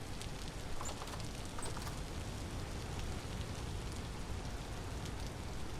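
Steady rain falls in the video game Path of Exile II, a faint, even hiss of drops pattering on surfaces with no talking over it.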